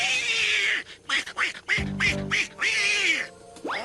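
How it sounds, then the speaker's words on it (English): A cartoon pet duck quacks in a rapid burst of several nasal calls near the middle, between stretches of other high-pitched cartoon animal chatter, with no talking. "He's their pet duck."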